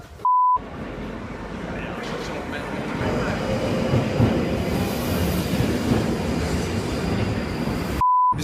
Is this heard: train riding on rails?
yes